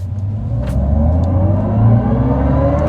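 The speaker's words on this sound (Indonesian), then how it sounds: "kayak suara mobil Formula E" A Hyundai Ioniq 5 N electric car plays a synthetic, Formula E-style engine sound, a steady loud whirring drone that rises in pitch as the car accelerates, with no talk over it.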